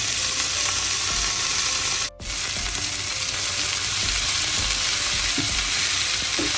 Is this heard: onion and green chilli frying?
yes